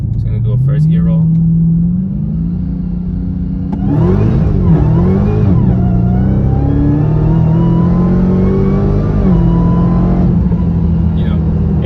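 A 2021 Dodge Charger Hellcat Redeye widebody on Toyo R888R tires rumbles along, then its supercharged V8 surges loudly in a first gear roll, the engine note climbing and wavering as it accelerates before settling.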